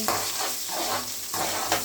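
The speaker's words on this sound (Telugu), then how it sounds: "తాలింపు పెట్టుకొని" Tempering spices, chillies and curry leaves crackle and sizzle in hot oil close by, with a spoon scraping and stirring through the pan in steady strokes.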